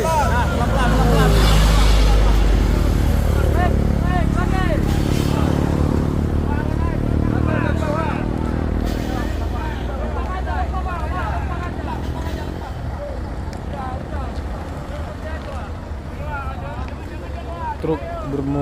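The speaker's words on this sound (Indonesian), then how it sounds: "Truk bermuatan berat." A heavily loaded truck labours up a steep hill, its engine a loud, steady drone that is strongest early on and eases slightly later, with people shouting and talking over it.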